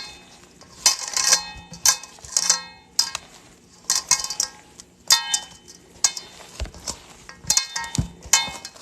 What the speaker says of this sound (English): So I mix these by hand because it mixes up better.